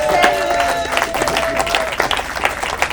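An audience at a 25th wedding anniversary celebration applauds a trophy winner, steady close clapping throughout with a voice speaking over it.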